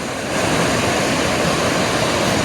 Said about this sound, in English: this whole river is just flowing hard and fast